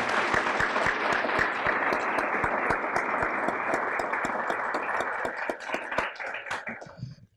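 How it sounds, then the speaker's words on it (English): An audience at a college speech showcase applauds, many hands clapping with some distinct individual claps standing out, gradually thinning and dying away toward the end. "one more round of applause for the speech showcase"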